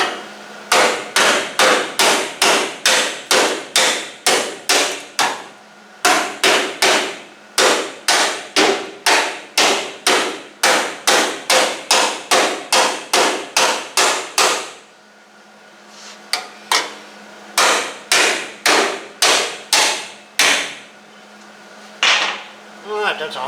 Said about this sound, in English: You notice how I'm moving the hammer, the whole length of it, not just beating it in one spot